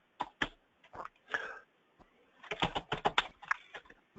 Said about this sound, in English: we'll have to stick to typing the questions